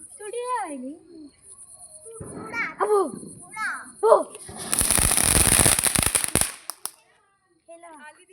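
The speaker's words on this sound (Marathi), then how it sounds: "दादा फोडते बिजली बॉम्ब" Bijli bomb firecrackers bursting in a rapid crackling volley at a Tulsi Vivah celebration, loud and dense for about two seconds, with children's excited voices and chatter before and after.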